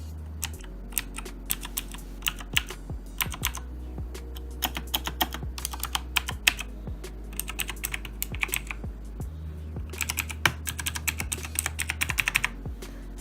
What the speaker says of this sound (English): super clicky keyboard. They actually have the Razer green switches.